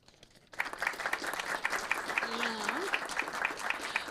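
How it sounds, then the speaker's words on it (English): A city council chamber audience breaks into sustained applause after a quiet opening, dense rhythmic clapping holding steady to the end with a brief voice audible beneath it. "please help me give a large round of applause for our own Public Works Department Manager,"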